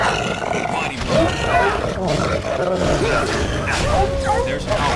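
Wolves growling and snarling in combat in the video game Dragon Age: Origins, loud overlapping growls and roars with clashing game noise, continuous throughout.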